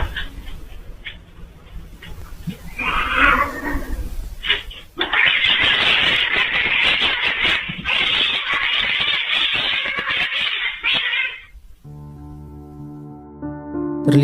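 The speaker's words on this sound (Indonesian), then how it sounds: "membuat si kucing seketika bangun dan lalu menyerang dengan sangat agresif" A house cat suddenly attacks aggressively, letting out harsh, sustained yowling and hissing caterwauls for several seconds, loud and close, before a short stretch of tonal background sound at the end.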